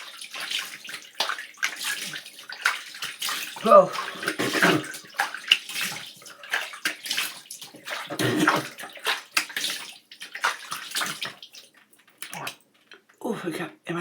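Cool water splashes and runs as a face is rinsed after an at-home chemical peel, with intermittent splashing close by and a person talking and gasping over it.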